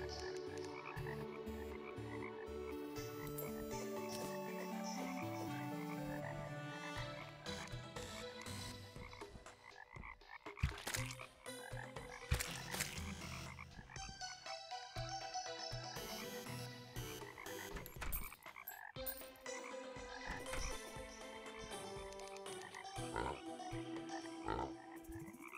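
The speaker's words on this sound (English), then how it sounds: "Oh, there are frogs on the walls." Frogs on the walls in the video game Terraria croak continuously over a dense bed of game music and effects, the croaking layered and persistent, with no voices.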